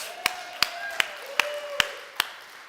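A handful of single hand claps, six sharp evenly spaced claps over a quiet room, as a church audience hesitantly applauds a pastor-appreciation gift.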